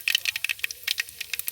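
Mustard seeds popping in hot coconut oil, a rapid irregular run of sharp close crackles and spits, with no speech.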